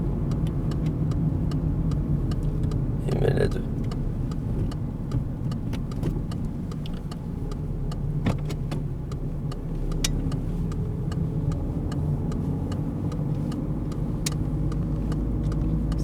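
A car drives along during a driving lesson, with a steady low engine hum and road rumble heard from inside the cabin, a few faint clicks and knocks scattered over about sixteen seconds.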